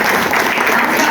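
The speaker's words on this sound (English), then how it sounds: "I'm going to give you a round of applause for that." Indoor applause from a press conference audience, a steady dense patter of clapping hands filling the short moment at full volume.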